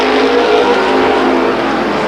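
Race cars roar past at close range on the Stockton 99 Speedway oval, a loud, dense, steady engine drone with no pauses.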